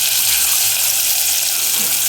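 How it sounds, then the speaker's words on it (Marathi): Barnyard millet (bhagar) frying in hot oil in a pot, a dense, steady hiss of sizzling that stays loud and even throughout, with no talking. "ही भगर फ्राय होत आहे"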